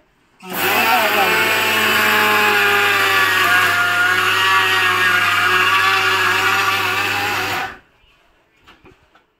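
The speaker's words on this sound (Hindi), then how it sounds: "ज़्यादा देर मिक्सी नहीं चलानी होती है।" An electric mixer grinder whirs loudly and steadily for about seven seconds grinding sesame seeds, then cuts off, followed by a few faint knocks.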